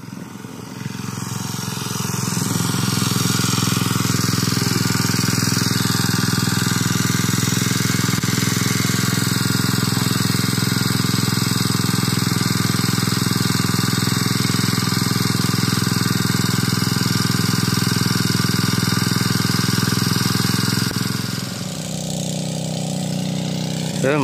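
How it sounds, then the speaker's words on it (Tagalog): Engine of a water well drilling machine roars loudly and steadily for about twenty seconds after starting up, a heavy droning hum that drops off near the end, with voices faintly underneath. "Yun na, yung mandarong makina natin."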